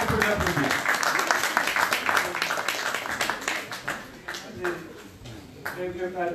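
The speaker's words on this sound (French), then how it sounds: "Je crois qu'on peut l'applaudir." Applause at a corporate launch event for a sports management MBA, a moderate round of clapping from a modest crowd that thins out into scattered claps, with voices talking over it.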